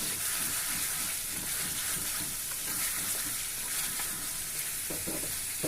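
Chicken curry (salan) for murgh chanay frying in a pan, a steady broadband sizzle with soft scraping stirs throughout, close and continuous with no talking.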